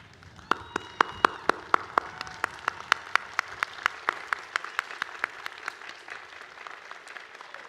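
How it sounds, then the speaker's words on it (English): Audience applause at a 2018 Merrimack College commencement ceremony: sharp, evenly spaced claps ring out over a softer wash of clapping, moderately loud and steady throughout. "Students, please rise and join me in applauding all those who have made this day possible for you."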